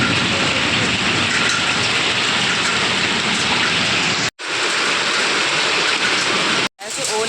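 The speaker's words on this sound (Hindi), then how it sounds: "ऐसे ओले गिर रहे हैं, इतने ओले गिर रहे हैं मैं क्या ही बताऊँ आपको।" Hailstones pelt down in a heavy rainstorm under a dark sky, a dense, loud, unbroken hiss and clatter close by that cuts out abruptly twice for a split second before resuming.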